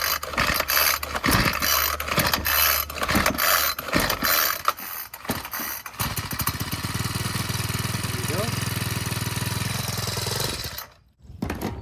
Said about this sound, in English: Squeeze the throttle and pull the rope 5 times.